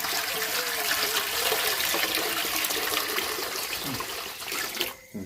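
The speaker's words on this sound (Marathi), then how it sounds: "त्यामध्ये आता पाणी ओतून घेत आहे" Water is poured steadily into a pot being set up for steaming chicken, a continuous splashing gush that runs for several seconds and then stops abruptly near the end.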